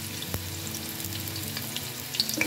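Chopped onions fry in preheated oil in a pot with a steady, soft sizzle and occasional faint crackles and clinks, alone without voices.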